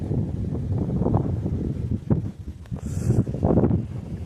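Wind gusts buffet the microphone outdoors at a bike race, a loud steady low rumble with swelling surges throughout and no clear voices.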